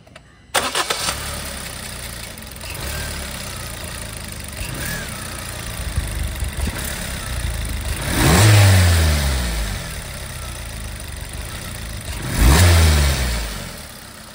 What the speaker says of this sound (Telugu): నెక్స్ట్ మీకు ఈ వెహికల్ సంబంధించినటువంటి ఇంజిన్ నాయిస్ ఏమైనా వస్తుందేమో ఒకసారి మనం చెక్ చేద్దామండి.